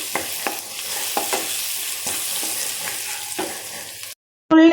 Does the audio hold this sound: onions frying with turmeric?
yes